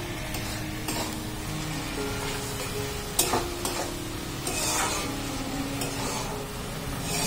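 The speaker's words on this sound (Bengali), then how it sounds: "একটু চিনি আর চিংড়ি মাছ দিয়ে দেবো লাউ ঘন্টতে" Bottle gourd curry with sugar and shrimp is stirred in a pan, giving a continuous close sizzle with repeated scraping and tapping strokes of a spoon, one sharper knock near the middle.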